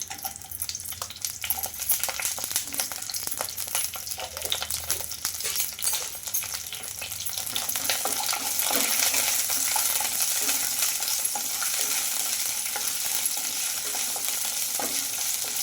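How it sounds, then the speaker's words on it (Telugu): Urad dal and green chillies frying in hot oil, a dense close sizzle with a spoon stirring and clinking against the pan, growing slightly louder partway through. "ఇవి బాగా ఫ్రై చేసుకోవాలండి"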